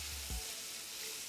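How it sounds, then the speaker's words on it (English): Flour fries with garlic in a pan for a steak and cabbage dish, a soft continuous hiss with a single low thump near the start, fairly faint and brief. "Fry the flour."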